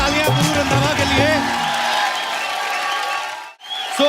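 Studio audience applauding and cheering for a singer on a comedy talk show, a loud burst of clapping with whoops that swells and then fades out, with voices mixed in.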